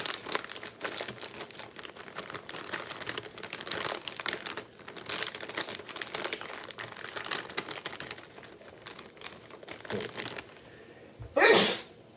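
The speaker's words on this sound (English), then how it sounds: "I just sneeze." A sharp, loud sneeze bursts out near the end, following a long stretch of steady crinkling and clicking noises close by.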